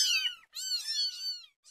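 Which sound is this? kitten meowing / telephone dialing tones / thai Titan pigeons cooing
kitten meowing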